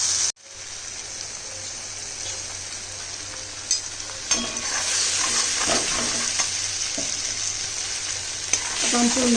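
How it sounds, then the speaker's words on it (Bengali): Ground spices with a small pinch of asafoetida and five-spice seeds sauté in hot oil in a pan, a continuous loud sizzle and fry with occasional scrapes and stirring clatters. "খুব সুন্দরভাবে কষিয়ে নেব"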